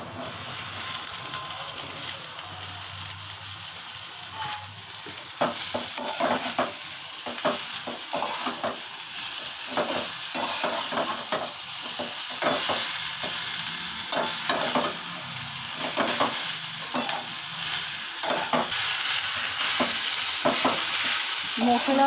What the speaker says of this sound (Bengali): মশলার সাথে লতিগুলোকে ভালো করে মিশিয়ে নিচ্ছি